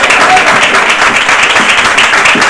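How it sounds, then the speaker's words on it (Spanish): Audience at a food fair in San Fernando clapping loudly, a dense, steady burst of applause that fills the short moment without a break. "Así que un fuerte aplauso"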